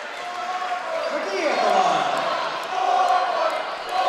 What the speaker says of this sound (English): The cheer block getting pretty cranked up